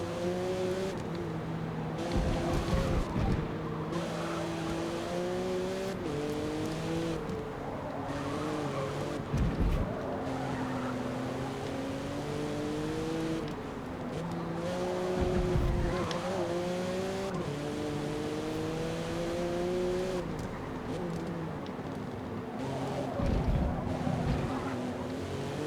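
Race car in Forza Motorsport, its engine droning steadily with rising and falling harmonic pitch through gear changes and corners, with occasional short bursts of tire noise, loud and continuous throughout.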